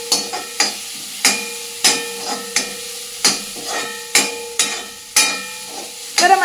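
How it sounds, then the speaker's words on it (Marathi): Freshly grated coconut is roasted in a pan with rhythmic, sharp scraping strokes of a spatula against the metal, each followed by a soft hiss, close and steady for several seconds without talking. "ओलं खोबरं आता मी भाजून घेते."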